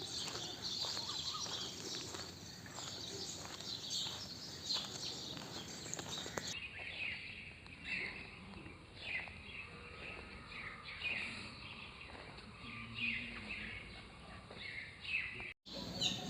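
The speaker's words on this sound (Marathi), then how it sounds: "या गावामध्ये आपल्याला आता पक्ष्यांचे भरपूर असे आवाज तुम्हाला ऐकायला येत असेल" Birds in Pisavare village near Bhor, Pune, chirp and call repeatedly over a steady outdoor background, many small tweets scattered throughout, moderately near.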